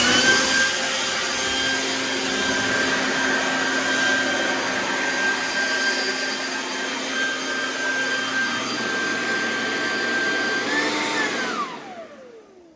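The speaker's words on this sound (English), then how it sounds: "Little Toro blower. Thing works pretty good." A small Toro handheld leaf blower runs at full power, a loud steady whine and rushing roar close by that holds for about eleven seconds, then winds down as the engine cuts off.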